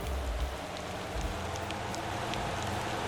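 Rain in the driving game Motor Town falls as a steady, close hiss of drops with a low rumble beneath, continuous throughout, with no talking.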